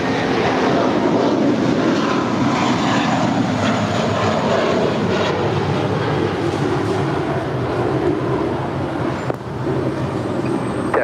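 A JetBlue airliner rolling for takeoff on runway 25 right at LAX: a loud, steady broadband jet engine roar that holds throughout, close and unbroken, with no voices heard.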